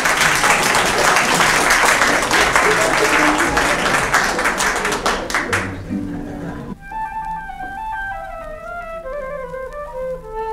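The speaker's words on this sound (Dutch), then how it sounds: "APPLAUS" Loud audience applause fills the first half, then thins into scattered claps and fades as a light melodic music passage with a plucked, tinkling line takes over.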